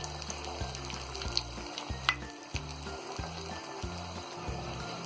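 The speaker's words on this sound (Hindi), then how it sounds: "और इसी तरह हम ये सारे कबाबों को फ्राई करेंगे।" Chicken shami kababs containing egg fry in hot oil, a steady crackling sizzle with a few sharper pops, heard close over stepped background music.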